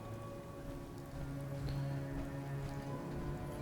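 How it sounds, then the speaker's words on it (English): Steady rain falls in Fallout 4, a constant wash of droplets with low ambient game hum beneath, moderately loud and unbroken for the whole stretch, with no voices. "maybe the rain will stop too."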